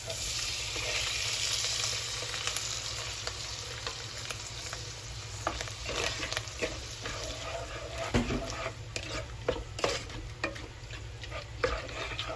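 Mushrooms fry in melted butter in a pan with a steady, dense sizzle, punctuated by occasional stirring clicks and scrapes close up; a dog barks faintly now and then.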